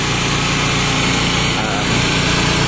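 A small generator engine powering a truck's auxiliary power unit drones loudly and steadily nearby, a constant buzzing hum with no change in pitch.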